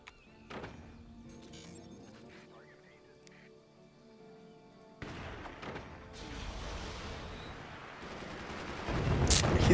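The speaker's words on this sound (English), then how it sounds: "He's got so many machine guns up now." Machine guns firing in the strategy game Forts: scattered faint shots early on, then a louder, denser burst of gunfire and impacts building toward the end, with a voice talking under parts of it.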